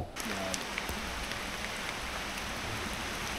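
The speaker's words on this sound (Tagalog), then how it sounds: "Naulan na guys." Steady rain on a mountain road makes a soft, even hiss of fine drops throughout, faint and close, with no talk.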